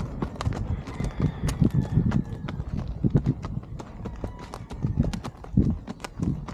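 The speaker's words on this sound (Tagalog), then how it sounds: "Napakalaking kabayo niya" A very large horse ridden in Palawan clops along at a walk, with steady, close hoofbeats on the ground and occasional soft snorts, with no talk over it.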